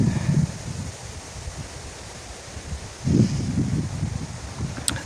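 Hurricane-force wind on a small ocean island buffets the microphone in a rough, gusty rumble, easing slightly, then surging strongly again about three seconds in.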